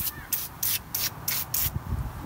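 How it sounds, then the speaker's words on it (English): Aerosol cans of Gunk engine cleaner hissing in a run of short bursts while spraying an engine bay, each spray about a quarter second long, loud and close, with some rubbing and handling noise underneath. "I wasn't expecting it to spray like that."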